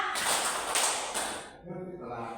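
Classroom of students clapping in a counted clapping game, a few loud broadband bursts of group claps in the first second and a half, then fading into voices talking.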